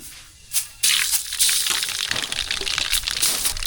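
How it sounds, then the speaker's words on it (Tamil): Mustard seeds spluttering and popping in hot oil, tempering for coconut chutney: a sudden burst of crackling that settles into a steady, close, busy sizzle with scattered sharp pops. "தேங்காய் சட்னி தாளிக்கிறதுக்கு எண்ணெய் எல்லாம் சூடாடிச்சு கடுகு சேர்த்துக்கலாம்"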